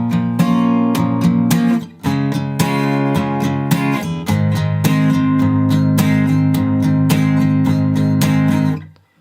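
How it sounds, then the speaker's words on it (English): Guitar strums through the bridge of a song, a close, loud run of rhythmic chord strokes with a brief pause near two seconds and a chord change around four seconds before fading out. "And then we get to a bridge, which sounds like this."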